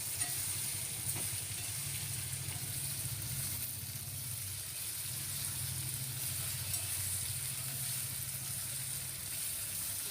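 Onion and potato frying gently in a pan over low gas, giving a steady soft sizzle with an even hiss that holds throughout, with no talking.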